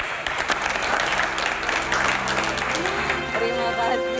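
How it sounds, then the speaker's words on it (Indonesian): A television studio audience applauds the guests at the close of a political talk show, a dense steady burst of clapping with a closing music sting rising underneath near the end. "Boleh tepuk tangan untuk narasumber kita"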